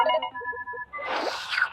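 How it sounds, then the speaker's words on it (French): A cartoon phone dials with a few short electronic beeps and tones, then a breathy, noisy burst follows; brief, fairly loud, with no speech. "Téléphone, fais le numéro de Ginger"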